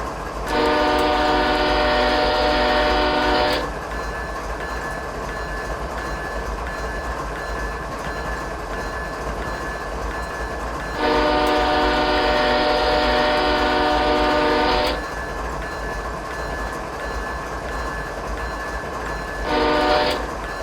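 A diesel locomotive in Train Simulator 2016 sounds its horn at a whistle board on the Norfolk Southern coal district. Two long, loud blasts come with a gap between them, then a short final toot, all over a steady rumble of the train rolling along.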